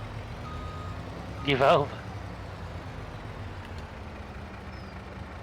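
Reversing beeps from a truck backing up with a trailer in Farming Simulator 25, a brief burst of repeated warning tones over steady engine hum, with a voice speaking briefly.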